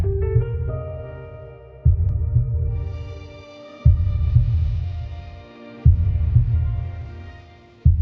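A slow, heavy heartbeat sound effect in a courtroom drama, with deep single thumps about every two seconds over sustained, swelling musical tones.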